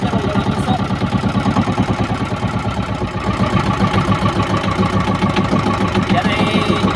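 A small wooden boat's engine idles cold through a PVC exhaust pipe, giving a loud, close, steady chugging pulse that runs without a break and swells slightly midway.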